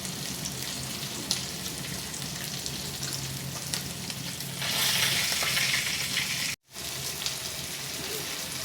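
Hot oil sizzles steadily in a pot on a stove, three tablespoons heated for a small-fish curry, with a brighter, louder hiss swelling midway before a brief cut and the crackle resuming.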